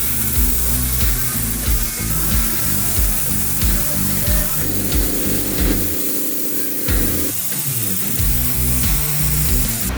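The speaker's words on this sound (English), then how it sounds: "painting with a paint gun is super tiring" A paint spray gun lays high build primer onto a 1965 Mustang, giving a loud, continuous hissing spray that surges and pauses, with occasional clattering from nearby tools.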